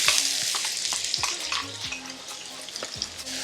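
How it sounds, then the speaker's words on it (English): Onion, carrot and celery frying in rendered fat in a pan for coq au vin, a steady broadband sizzle with repeated scraping stirs and soft utensil knocks throughout, no voices. "in that fat, you want to add your onion"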